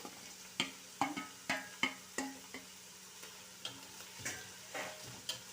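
Ingredients for a chicken pasta sauce frying in a pan, a steady soft sizzle broken by a series of sharp stirring clacks and scrapes at irregular intervals, close and with no talking.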